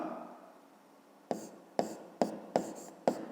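A pen writes an answer on paper at a desk, giving five sharp, close scratching strokes in quick succession after a quiet start, with no talk.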